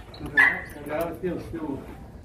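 Dogs at a pit bull kennel let out a short yip and whimpering barks, close by and mixed with someone talking over them.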